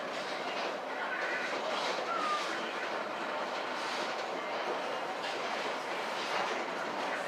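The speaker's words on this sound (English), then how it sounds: "You're riding on one of the first railroads into Chattanooga today." Heritage train, led by Southern Railway steam locomotive 630, riding a historic stretch of Southern Railway track near Chattanooga, with a steady, moderately loud rumble and faint rhythmic clatter of wheels heard from on board.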